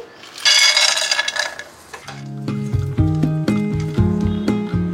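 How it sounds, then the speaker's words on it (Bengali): Cashews and raisins frying in a pan: a brief burst of loud hissing sizzle is followed by a series of clinking taps and scraping of a utensil against the pan. "এবার এখানে কাজু আর কিশমিশ এটা ফ্রাই করে নিচ্ছি"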